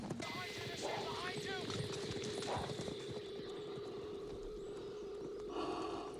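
Horses' hooves clip-clop rapidly across the ground in a scene from the TV series Robin of Sherwood, a dense galloping patter with a whinny and voices mixed over it, moderately faint.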